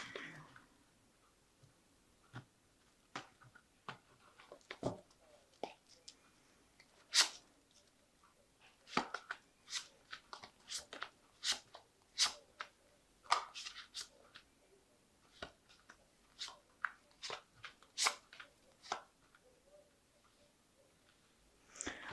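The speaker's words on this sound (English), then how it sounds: "So I'm going to just draw some cards." Tarot cards being shuffled and drawn at a quiet table, with many short crisp riffles, taps and slides of cards scattered irregularly across a hushed background.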